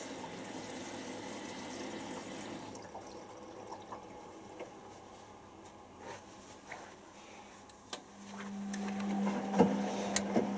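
A Hotpoint Aquarius Powerstream 6kg washing machine filling with hot water, a soft continuous rush of water inflow with faint mechanical ticks, growing slightly louder toward the end.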